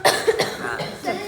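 A person coughs several times in short bursts, close and fairly loud, in a home during a family visit.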